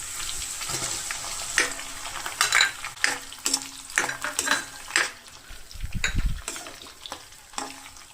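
Chilli chicken with green chilli, onion and capsicum is stir-fried over a high flame in a pan, with repeated clanks and scrapes of a metal spoon over a soft background sizzle and no voices.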